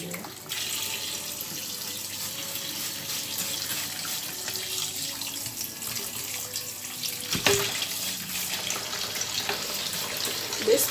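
Water runs steadily from a kitchen sink faucet as raw chicken is washed, a close, even hiss that fills the whole stretch, with a brief clunk near the end.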